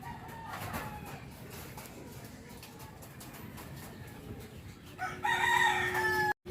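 A rooster crows on a rooftop in Gattaran, Cagayan, loud and fairly close near the end, after a stretch of muddy outdoor background noise.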